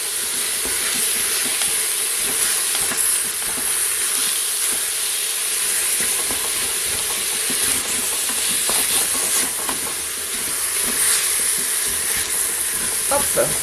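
Pieces of turkey meat browning in a pan give a steady, dense sizzle with bright hiss and light crackle, close and continuous for the whole stretch, with occasional faint clatter of stirring.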